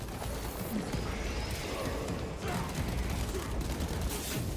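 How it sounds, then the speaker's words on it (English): Gunfire from a bolt pistol in the Warhammer 40,000: Space Marine 2 video game, a dense, continuous crackling barrage that stays loud and steady throughout, with faint talk mixed in. "that bolt pistol sounds horrible"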